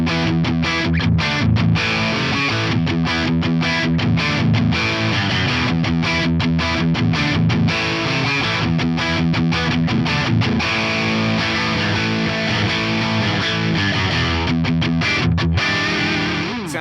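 Fender 75th Anniversary Ultra II Telecaster electric guitar played through a JCM 800 amp profile into a cab impulse, giving a dense, distorted rock-and-roll sound of strummed chords and riffs, loud and steady with no talking.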